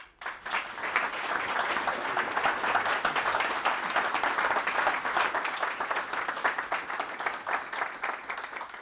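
An audience at an evening talk breaks into steady, sustained applause to welcome a speaker, a full room of clapping holding at an even level for several seconds.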